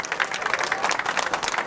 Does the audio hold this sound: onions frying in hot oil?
no